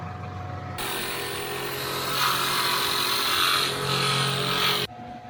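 A power drill bores through the metal body of a van for a solar panel installation, making one loud, steady whine of about four seconds that cuts off abruptly.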